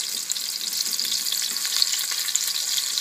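Chicken and apple patties fry in a pan with a bright, continuous sizzle, dotted with small pops and crackles, close and fairly loud.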